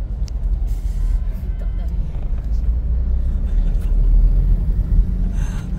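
A car pulls through city traffic with a steady low engine rumble that swells slightly near the end, with nearby traffic noise around it and people talking inside the car.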